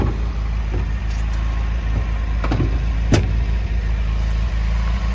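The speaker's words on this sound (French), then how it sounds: "Petit réglage à faire au niveau du ralenti." A 1977 MGB sports car idles steadily at close range with a low, even engine rumble, a few brief clicks and knocks rising over it and nobody speaking.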